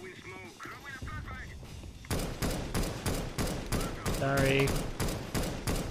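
Rapid gunfire in an online shooter video game, bursts of repeated shots crackling in quick rhythm and growing louder in the second half, with voices talking over it.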